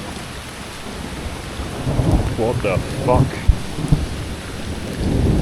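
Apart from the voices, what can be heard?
thunder during a rainstorm in Medellín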